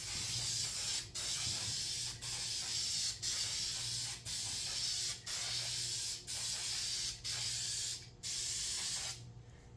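Tint being sprayed onto Honda Ridgeline taillights from an aerosol can: a close, loud run of roughly nine hissing passes, each separated by a very short pause, with no voices.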